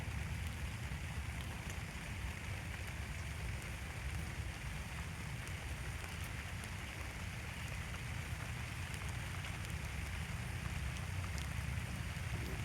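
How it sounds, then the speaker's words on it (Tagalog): Steady, dense hiss of rain falling, continuous and even throughout with no talking, like a heavy shower pattering on a surface nearby. "Guys, umuulan oh."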